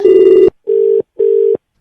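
A telephone rings during a prank call, heard as three loud, steady electronic tone bursts. The first burst is longer and the next two are shorter, separated by brief silences, with no voices.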